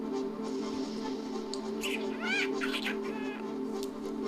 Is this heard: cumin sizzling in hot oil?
no